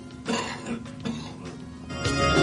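A man with a lingering cold coughs a few times in short bursts, close and moderately loud, with a harsher cough near the end.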